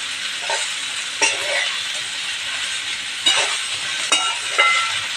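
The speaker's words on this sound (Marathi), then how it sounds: "तर हे आपण छानपैकी असे परतून घेऊया." Okra coated with gram flour fries in a pan with a steady, soft sizzle, broken by several quick scraping strokes as it is stirred.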